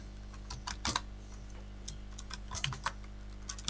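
Someone types Java code on a computer keyboard, nearby and fairly quiet. Short irregular bursts of key clicks are separated by brief pauses over a low background hum, with no voices.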